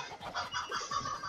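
Rooster and goose-like fowl calls from the co-op video game Moving Out, a run of honking, clucking cries repeating through the moment at fairly close range, with no talk.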